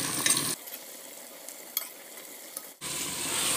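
Onions with a little turmeric frying in a pan, stirred with a utensil, close scraping strokes over a soft sizzle, the sizzle louder at the start and end.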